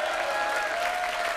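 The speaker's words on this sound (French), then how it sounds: "Ah, voilà, Anne qu'on peut applaudir." Studio audience applauding on a French game show, loud continuous clapping from a crowd, with a faint sustained musical tone beneath it.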